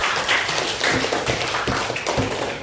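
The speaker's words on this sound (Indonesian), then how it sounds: "Tepuk tangan untuk Sila." Classroom applause at a junior high school for a student who has just finished presenting: a dense, steady patter of many hands clapping together, close and fairly loud, with no talking over it.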